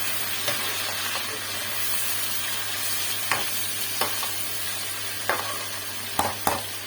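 Onions frying in a pan for a Hyderabadi chicken pulao, a steady broadband sizzle with occasional sharp clicks of a spoon stirring against the pan, close and with no talking.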